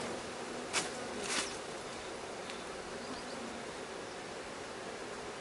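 Honeybees hum in a soft, continuous drone at an open hive during queen introduction, a faint steady buzz broken by two brief louder rustling bursts near the start.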